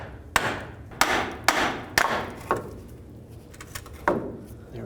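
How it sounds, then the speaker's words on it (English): A small hammer taps sharply at a starter on a 2003-09 Toyota 4Runner to break it free from the yoke, six metallic knocks at uneven spacing, close and alone. "Now with a little hammer, I'm going to try and tap right here, hopefully break this free from the yoke."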